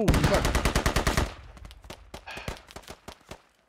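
Gunfire in the tactical shooter Squad opens with a loud, close automatic burst of evenly spaced shots, then continues as fainter scattered shots and short distant bursts.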